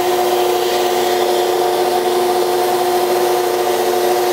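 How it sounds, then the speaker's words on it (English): A rifle barrel spinning on a lathe while being sanded with 320 grit paper and a little fluid: a constant, loud whirring hum with steady rubbing friction, unbroken and with no voices. "I'm just going to go ahead and basically sand the scratches out"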